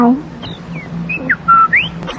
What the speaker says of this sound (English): beautiful birds. And what happy little animals